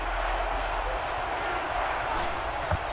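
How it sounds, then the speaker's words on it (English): Steady, dense stadium crowd roar from the NCAA Football 12 video game, a loud continuous wash of many voices that holds for the whole stretch, with a brief sharper burst near the end. "And this stadium is getting loud."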